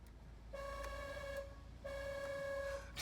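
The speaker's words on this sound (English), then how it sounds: "you have a train horn" A train horn fitted to a cheap Honda car sounds two sustained blasts, each about a second long, with a gap between them, fairly faint over a low engine rumble.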